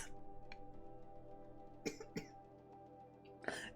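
A few short coughs and a throat clear, close and sharp, spaced out over quiet game background sound with a faint hum.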